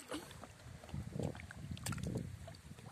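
Kayak paddle strokes on a man-made lake in Vojvodina, with soft splashes and water swishes close by, plus faint wind, quiet throughout.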